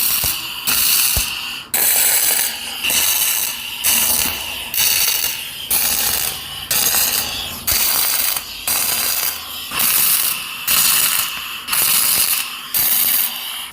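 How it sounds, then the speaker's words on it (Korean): Tack welding on an excavator boom extension's link base produces bursts of crackling arc noise, about a dozen roughly one-second welds separated by short gaps, loud and close with no talk. "이제 링크 베이스 가접 들어가고요."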